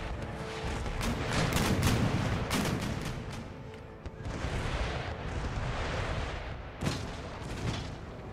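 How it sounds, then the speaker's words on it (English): Howitzer artillery fire in the video game Empire: Total War: repeated deep booms and rolling blasts under a continuous battle din, with a sharper report near the end. "Howitzer, drop howitzer fire in the center."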